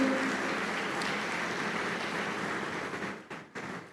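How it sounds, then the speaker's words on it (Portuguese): Church congregation applauding, a dense steady wash of clapping that holds evenly before thinning and breaking into a few final scattered claps. "dê uma salva de palmas ao Senhor"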